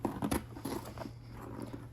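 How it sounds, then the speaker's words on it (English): Sewing scissors snip through car seat upholstery fabric in a few quick, quiet crunching cuts, followed by softer rustling against a low background hum. "So the sewing scissors really make easy work out of this."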